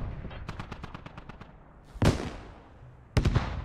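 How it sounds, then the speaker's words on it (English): RPG rockets slamming into a Bradley armored vehicle in the Squad video game: a rapid burst of cracks, then two loud, sharp explosive impacts about a second apart. "an RPG hits the Bradley as well"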